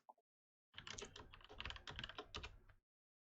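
Rapid keystrokes clatter on a computer keyboard for about two seconds, close and clear, after a brief tap, then silence.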